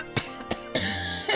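A person coughing, three or four short harsh bursts in quick succession, close and loud, with a brief raspy throat sound between them.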